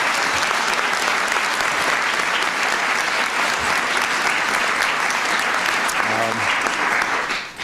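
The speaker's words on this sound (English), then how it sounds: "let's give Sophia a big round of applause" A large audience at the White House Science Fair breaks into sustained, loud applause for a student, with scattered cheers mixed into the dense clapping until it fades at the end.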